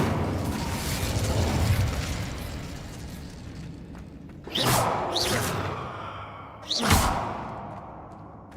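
Fire spell cast in a Harry Potter video game, heard as two sharp whooshing bursts, one near the middle and one toward the end, over a low murky game ambience.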